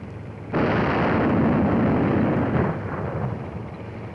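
Sustained heavy artillery fire over a road in a 1954 wartime documentary, a loud rumbling roar that bursts in after half a second of quiet and holds for several seconds before easing slightly, with no talk over it.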